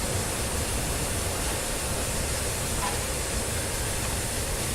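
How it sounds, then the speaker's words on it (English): A long mainline train passing in the opposite direction, heard from aboard an excursion train, a steady loud roaring rush and hiss of rolling stock that holds unbroken throughout with no voices. "this is a long mainline train going the opposite direction"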